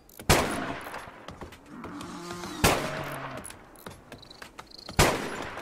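Gunfire in the colony game Rimworld: three sharp, loud shots spaced a couple of seconds apart, each with a brief tail, over a low game background with faint tonal blips.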